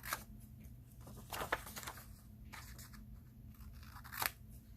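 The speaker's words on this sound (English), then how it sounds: "we'll trim our little ends here on an angle and cut our corners off" Scissors trimming the cardboard ends and corners of a cake mix box for a journal, a few quiet close snips and crunchy cuts spaced across a few seconds, with no one talking.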